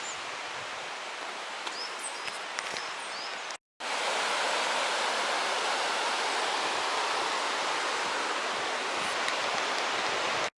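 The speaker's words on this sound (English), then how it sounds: "there's the Artro River down there" The Artro River below a lane near Aber Artro Hall in Llanbedr, Wales, gives a steady, even rushing hiss of flowing water. Bird chirps are heard early on, and the sound cuts out briefly before continuing.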